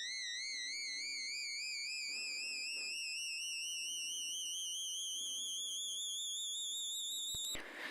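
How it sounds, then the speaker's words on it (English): Two adjacent synth notes played together for a dissonant clash, with a wobbling vibrato, glide steadily upward as a pitch knob is turned, then cut off with a brief click at the end. "I'm just taking two notes directly next to each other, so it sounds super dissonant, and then I'm using the pitch knob here so that it's following this upward trend"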